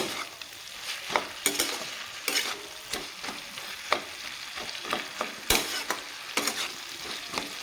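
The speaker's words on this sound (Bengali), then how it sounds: "একটু আমি খুন্তির সাহায্যে মিক্স করে দেব" A metal spatula stirs boiled spinach and vegetables in a hot pan, giving repeated sharp scrapes and knocks over a continuous sizzle, close and without voices.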